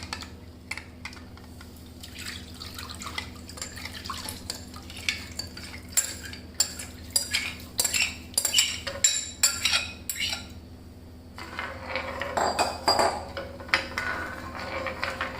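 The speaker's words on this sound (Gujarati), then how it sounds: "અને આ રીતે સતત એને હલાવતા રહીશું અને ધીમી ફ્લેમ પર એને ઉકાળતા જઈશું" A milk, milk-powder and sugar mixture for mango ice cream is stirred in a pan on a low gas flame. Soft, irregular spoon scrapes and light clinks against the pan sound close and quiet over a faint steady hum.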